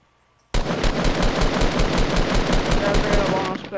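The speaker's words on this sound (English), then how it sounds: "They're shooting at me." Rapid automatic gunfire from the video game Fortnite rattles on in a dense, steady burst of closely spaced shots for about three seconds, loud and continuous after a quiet start.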